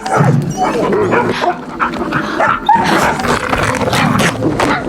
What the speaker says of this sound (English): That night, the sound of barking suddenly echoed from outside.